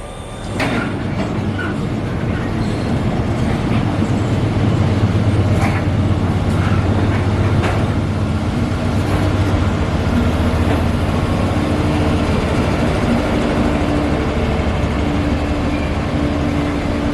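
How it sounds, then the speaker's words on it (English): Train passing through a Korean railway station, a steady heavy rumble with scattered clicks and clatter that holds loud and close for the whole stretch. "Here comes a train, but I think it's out of service."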